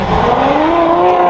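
A Ferrari F8 accelerates past at close range, a brief loud rising engine roar lasting about a second.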